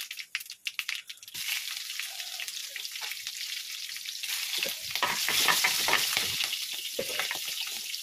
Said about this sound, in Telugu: చట్నీకి తాలింపు వేస్తున్నాండి